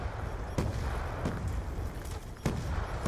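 Video game explosions and gunfire, a dense rumbling barrage with several sharp booming blasts standing out against a constant loud noisy backdrop.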